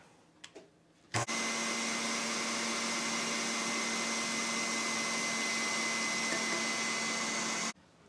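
Electric mixer whipping egg yolks with sugar, a steady loud whirring motor hum switching on after a brief clatter and running evenly for about six seconds before cutting off, no voices.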